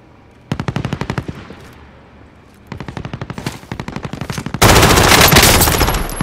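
Bursts of automatic gunfire from the video game Call of Duty Warzone come in rapid, loud, close volleys, with a short lull between the first two bursts and a denser, more intense stretch of fire at the end.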